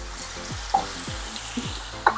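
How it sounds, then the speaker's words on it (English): Onions sweating with a pinch of salt in a pan for bola-bola soup give off a steady soft sizzle, broken by a few light stirring scrapes and small clinks. "once your onions get translucent in color, which is happening right now"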